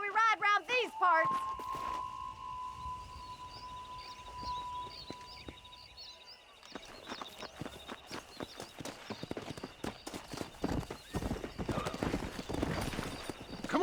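A horse in Red Dead Redemption snorts and whinnies, then breaks into a loud, rapid gallop of close, rhythmic hoofbeats that builds through the second half, with a character's voice speaking near the start.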